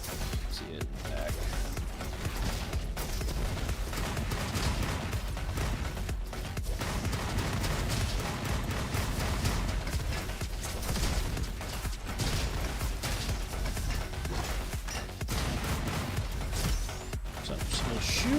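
Sustained gunfire in a sci-fi shooter video game, dense and continuous bursts over a busy mix of mechanical effects and crashes, loud throughout with occasional speech mixed in.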